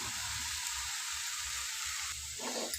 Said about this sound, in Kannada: ಸಣ್ಣ ಉರಿಯಲ್ಲಿ ಚೆನ್ನಾಗಿ ಫ್ರೈ ಇದು ಇವಾಗ ನಾನಿಲ್ಲಿ ಬೇಯಿಸಿಟ್ಕೊಂಡಿರೋ ಕಾಳನ್ನ ಹಾಕ್ತಾಯಿದ್ದೀನಿ